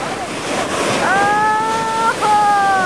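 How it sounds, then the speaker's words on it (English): Ocean waves break at The Wedge, a loud, steady roar of surf and wind, with drawn-out excited vocal exclamations over it. "We finally got to see inside one of those waves."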